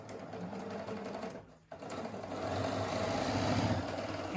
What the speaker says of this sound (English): And then I'm just going to sew my edge on.